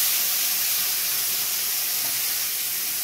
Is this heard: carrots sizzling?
yes